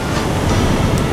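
Ocean waves surge in a loud, continuous wash of broadband surf noise, close and unbroken, with some wind buffeting the microphone and no voices.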